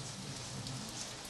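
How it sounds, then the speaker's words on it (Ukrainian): Steady rain falls in a continuous, even hiss of drops on surfaces, with no voices and no pauses. "Якби не падав дощ"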